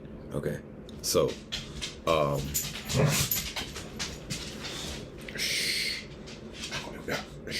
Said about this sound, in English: I'm dealing with dogs.